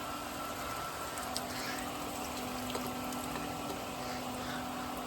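A pool pump primes on a Jandy cartridge filter, water rushing through with a steady broadband wash over a low constant hum, unbroken for the whole stretch with no voices.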